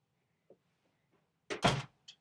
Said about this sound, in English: hey Colin, can you shut my door for me?